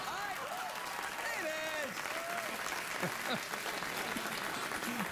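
Applause and laughter from a late-night talk show studio audience after a joke, a continuous wash of clapping with voices and a brief spoken remark over it.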